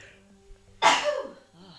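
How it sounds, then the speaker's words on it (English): A single sudden sneeze bursts out close to the microphone, sharp and loud, followed by a brief trailing breath, with quiet background sound before it. "I'm having lots of sneezes this morning, so I feel another one coming soon"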